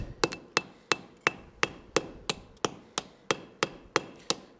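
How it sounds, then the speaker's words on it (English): Light hammer blows forging a steel piece on an anvil, about twelve sharp ringing strikes at an even, steady pace, close and distinct with brief decays between hits. "All we're doing is just lightly hammering on the piece to make this surface more uniform in nature."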